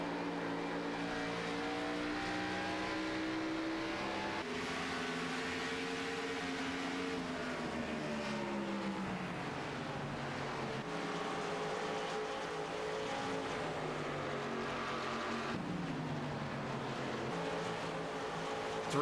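Race cars battling on track at ISM in a racing video game: several engine tones weaving and sliding in pitch together, a continuous fairly faint drone with shifting harmonics as the cars jostle, no talk.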